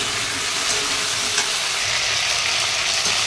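Food frying in a pan with salt and turmeric gives a loud, dense, continuous sizzle, with faint stirring scrapes under the constant hiss and no speech.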